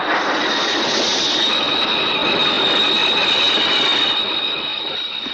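An old steam-era train in a western setting brakes hard, its wheels squealing steadily at a high pitch over a loud, continuous rumble of rolling stock, close and sustained without any voices.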